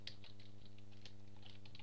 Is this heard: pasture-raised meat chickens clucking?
no